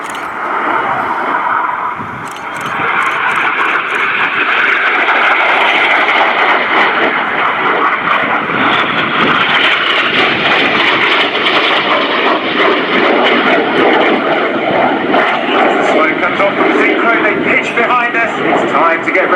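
RAF Red Arrows display jets performing at an air show, a loud, continuous engine roar sustained throughout while a voice talks over it.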